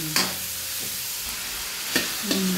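Meat for Ilocano buridibod fries in a pan with onions, giving a soft, steady sizzle up close. A few sharp clinks and scrapes of a utensil sound at the start and near the end.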